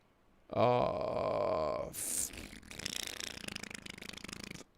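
A voice imitates big wet fart noises: a loud, long buzzing blurt followed by a sputtering, flapping run of wet raspberry sounds, close and alone.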